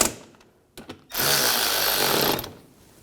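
A power tool runs in one steady burst of about a second and a half while snugging headlight screws on a 2006-2010 BMW 550i, preceded by a few faint clicks and handling knocks.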